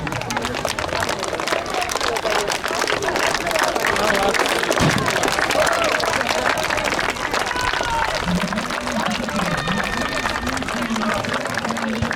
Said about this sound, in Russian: поддержать аплодисментами, пока будет еще награждение